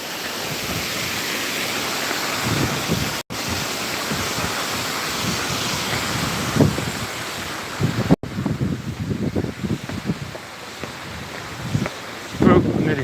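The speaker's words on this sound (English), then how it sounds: "you see the wash of water when you come here" Waves washing and rushing against the shore nearby in Tampere, with gusty wind noise buffeting the microphone, a few brief voices and footsteps breaking through.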